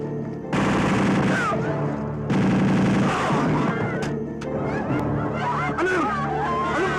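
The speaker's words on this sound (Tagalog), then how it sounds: "Anong putukan yun?" Bursts of automatic gunfire from an action movie, two loud sustained rattles followed by scattered shots mixed with shouting voices and crowd noise.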